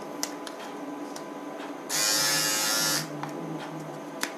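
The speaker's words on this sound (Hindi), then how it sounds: "तो दोस्तों, यहाँ पर जाली के अंदर से बाल जाएंगे और शेव हो जाएगा।" A Syska cordless trimmer buzzes loudly for about a second as it shaves, standing out from a quieter background with a few soft clicks and handling taps before and after.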